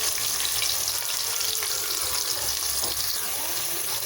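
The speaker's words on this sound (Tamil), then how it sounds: "3 பெரிய வெங்காயம் கட் பண்ணி வச்சுருக்கேன், அதை போட்டுக்கலாம்" Chopped large onions fry in masala for a jackfruit biryani, a steady close sizzle with light stirring scrapes that carries on evenly throughout, no voices.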